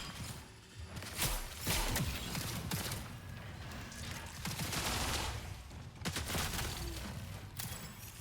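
Sustained gunfire in the Marathon shooter game, a dense rattle of overlapping shots at moderate distance over about eight seconds, steady and loud with no clear pauses and no talk.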